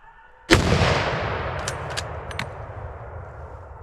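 A single loud rifle shot cracks close by during a wild boar hunt, followed by a long rolling echo that decays over several seconds, with faint metallic clicks after.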